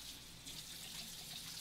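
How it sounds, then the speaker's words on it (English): Tap water running into a kitchen sink while hands are washed: a steady, continuous hiss and splash, moderately faint and close, with no talking. "So let me wash my hands."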